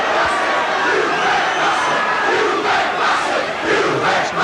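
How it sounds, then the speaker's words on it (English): Large football stadium crowd at a Leeds v Bradford cup match jeering the referee, a loud sustained roar of voices with rising shouts, continuous and distant-sounding across the stands. "Crowd voicing their opinion there at the referee."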